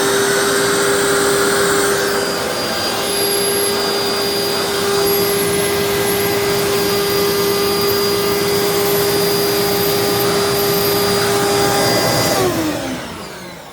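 A 1995 Dirt Devil Impulse handheld vacuum runs loud and steady with a turbo brush attached, holding a constant whine before winding down at the end.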